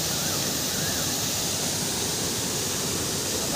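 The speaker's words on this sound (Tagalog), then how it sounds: "Ang ganda ng falls." A waterfall's steady, broadband roar of rushing water, loud and unbroken throughout, with no voices.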